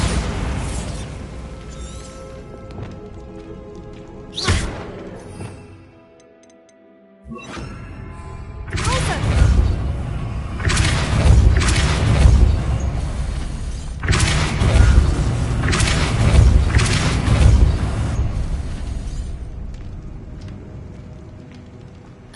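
Bombarda explosion spells in Hogwarts Legacy: loud booming blasts with crackling debris, a sharp burst early, a brief near-silence, then several sustained rumbling explosions in quick succession.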